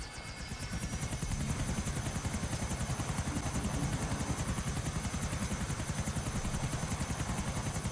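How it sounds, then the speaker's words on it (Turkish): Helicopter in the video game GTA 4, flying over Liberty City, with a steady, loud rotor chop that pulses rapidly and continuously over a whining turbine tone from start to finish. "F tuşuna basıyoruz ve helikopteri artık kullanabiliyoruz."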